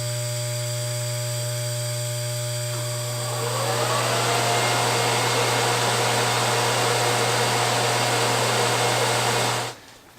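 An electric grinder sharpens tungsten welding electrodes, a steady motor hum that rises into a loud continuous high-pitched whine as the tungsten meets the wheel, running close for several seconds before cutting off abruptly.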